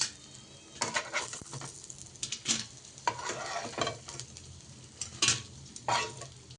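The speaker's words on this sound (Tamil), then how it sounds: "சிம்லே வச்சு பொரிச்சிக்கலாம்." Leftover-rice snacks frying in oil over a low flame, with steady soft sizzling broken by several louder scrapes and stirs of a utensil against the pan, close by, with no voices.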